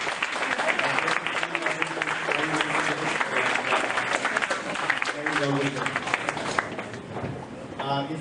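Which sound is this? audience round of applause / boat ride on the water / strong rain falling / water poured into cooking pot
audience round of applause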